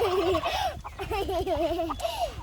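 An odd-looking chicken on a farm in the early morning calls nearby in a run of warbling, wavering, gobble-like cries, loud and close, with brief gaps between them.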